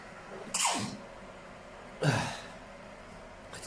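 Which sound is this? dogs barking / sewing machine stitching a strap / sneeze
sneeze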